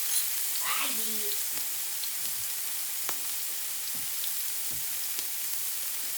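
Garlic sizzling in olive oil in a pan, a soft continuous hiss with faint crackles and a few stirring clicks, fairly quiet and close.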